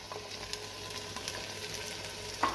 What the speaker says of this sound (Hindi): चिकन को भूनते हुए 15 मिनट हो चुके हैं